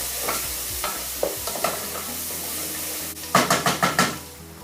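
Halved chilies, seeds left in, are tossed into a hot frying pan and sizzle loudly for Bangladeshi roasted lamb, with stirring scrapes and a steady frying hiss, then a burst of rapid crackling pops.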